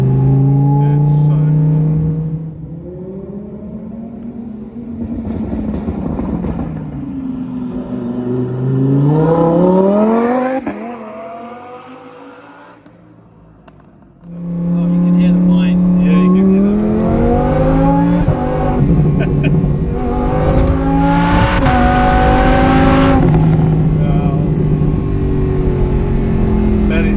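A supercharged Lamborghini Huracan launches off the line with minimal wheel spin, its engine roaring up through rising gear pulls, loud and close, with a quieter lull between runs.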